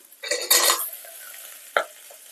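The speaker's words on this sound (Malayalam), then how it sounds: "ഇനി നമുക്ക് കട്ട് ചെയ്ത് വെച്ചിരിക്കുന്ന ഉരുളക്കിഴങ്ങ് ഇട്ട് കൊടുക്കാം" Cut potatoes dropped into a pan of softened, sizzling onions for a Kerala-style potato stew, a loud burst of frying hiss and stirring scrape, then a quieter sizzle with another brief clatter.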